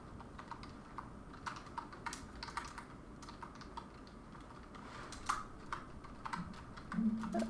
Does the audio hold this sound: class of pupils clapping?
no